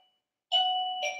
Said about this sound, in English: That was my doorbell as people walk in and out.